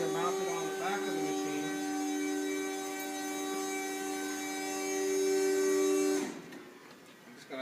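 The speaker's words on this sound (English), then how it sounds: "Going to turn off that pump so you can hear me." A coolant pump on a grinding machine with an internal grinding spindle runs with a steady, tonal electric hum and whine, then cuts off abruptly near the end, leaving a quieter room.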